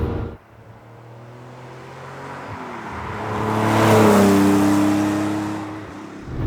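A 1977 Ferrari 512 BB's rear-mounted 180-degree flat-12 engine, close by, holding a steady drone before revving up to a loud peak and easing back down.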